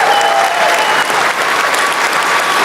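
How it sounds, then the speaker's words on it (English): Loud, dense applause from a crowd of restaurant staff and guests at a Las Vegas bell-ringing event, continuous close clapping with a few faint cheers and voices mixed in throughout. "give yourselves a round of applause"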